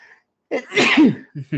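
A single close, loud human sneeze bursts out after a brief pause, followed by a couple of short spoken words right afterward.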